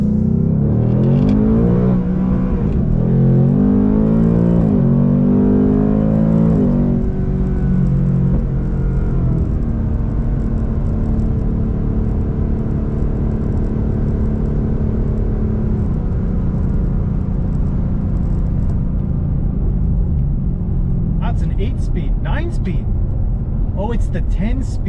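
Ford Mustang Dark Horse engine on a race track, a steady loud rumble with rising revs and gear changes early on, then a sustained drone, heard under talk throughout.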